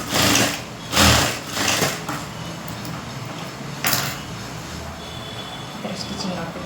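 A sewing machine stitches a blouse in short bursts of whirring, separated by brief pauses, close and moderately loud with background hum.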